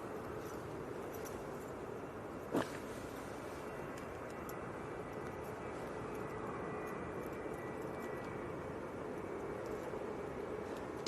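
A Privilege Style Boeing 777 jet taking off at Manchester Airport, heard as a faint, steady distant engine roar with one brief click early on.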